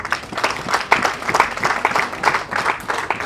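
Uniformed members applaud their spouses at a ceremony, with loud, uneven claps from a crowd beating in a quick, lively rhythm throughout.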